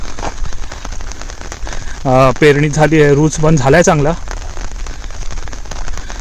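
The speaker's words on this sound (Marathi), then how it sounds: "आता पाऊस पडतोय ना, आता काल पण थोडासा रात्री पाऊस पडला आणि आत्ता पण पडतोय" Monsoon rain falls steadily on a Kokan village, a dense, even hiss throughout, with someone talking briefly over it midway.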